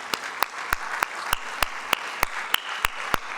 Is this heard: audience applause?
yes